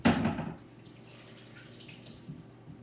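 Tap water runs steadily from a faucet as hands are washed in a kitchen while preparing to can peaches. A brief louder splash comes first, then a constant, moderately close rush of running water.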